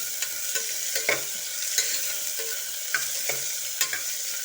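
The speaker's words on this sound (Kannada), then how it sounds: "ಇದು ಗೋಲ್ಡನ್ ಬ್ರೌನ್ ಆಗುವವರೆಗೂ ನಾವು ಫ್ರೈ ಮಾಡ್ಕೊಳ್ಬೇಕು." Onions frying in a pan until golden brown while being stirred, a steady close sizzle broken by regular soft scraping stirs, with no voices.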